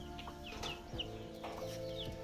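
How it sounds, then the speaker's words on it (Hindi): A hen clucks softly in a few short calls close by, over a steady low mechanical hum with faint bird chirps in the background. "मुर्गी जी शायद बाहर घूमना जाना चाहते हैं।"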